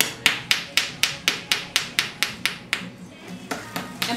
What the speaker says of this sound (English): please use a nice big hammer